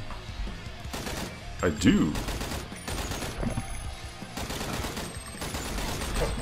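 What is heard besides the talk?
gunshots in a video game shooter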